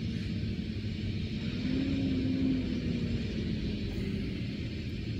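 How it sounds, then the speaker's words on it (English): Trucks rumbling past near a solar plant, a steady low engine drone with a brief louder swell midway, moderately close and without voices. "Trucks are coming in all the time."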